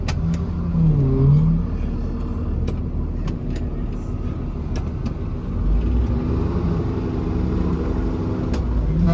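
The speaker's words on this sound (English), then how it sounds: "That is a big bus, yeah." A large city bus drives past along a Vancouver street near False Creek, its engine a steady loud low rumble that swells slightly as it goes by, with no talking.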